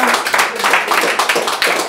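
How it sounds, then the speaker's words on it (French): A small studio audience on a French talk show gives a brief burst of close, dense applause that stays fairly loud throughout. "Pas mal, on peut applaudir."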